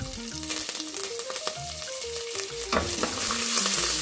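Cashews and curry leaves fry in hot oil for coconut rice, giving a steady close sizzle with light stirring. A melodic backing plays throughout.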